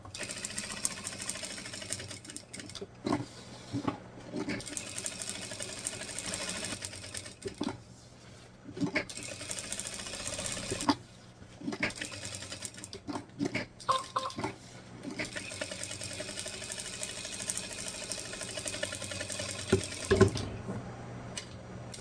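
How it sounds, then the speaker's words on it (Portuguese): A sewing machine stitches a seam around the edge of a fabric piece, running in steady mechanical bursts with brief pauses between runs, close and moderately loud. "a gente vai começar a nossa peça fazendo a costura aqui a toda volta"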